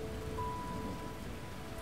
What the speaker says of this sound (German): Das stellen wir doch gleich mal in Regen.